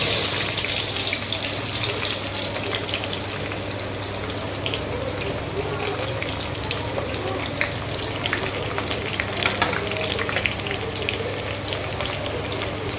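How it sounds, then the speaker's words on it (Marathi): Onion frying in a pan for chicken biryani, a steady close sizzle with faint crackles running continuously throughout, alongside a low constant hum and occasional light clinks. "आता आपण कांदा टाकायचा याच्यामध्ये."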